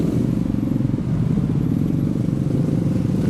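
Motorcycles and cars crawl in a New Year's Eve night traffic jam in Bogor, a close, steady low engine rumble with a pulsing idle throb and no break.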